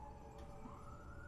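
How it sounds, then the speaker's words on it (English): A police siren wails faintly and steadily in the distance, its tone slowly rising, behind a low background hum. "Siren. There's police everywhere."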